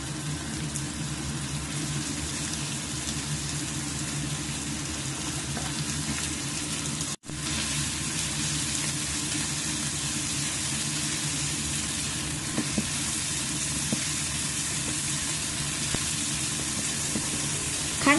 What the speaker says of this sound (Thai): ใส่หมูสับลงไปจากนั้นก็ผัดต่อค่ะ